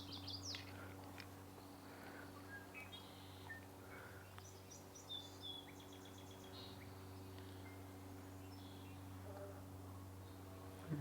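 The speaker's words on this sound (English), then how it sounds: "Golden crowned sparrow." Golden-crowned sparrow singing in a coastal provincial park in spring, a few thin whistled phrases heard faint and distant over a steady low hum and soft background chirps.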